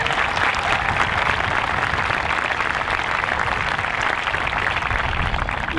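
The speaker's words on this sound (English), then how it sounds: "Let's have a big round of applause for the staff." Loud, dense applause from a large crowd at a high school graduation, sustained steadily for several seconds without pause.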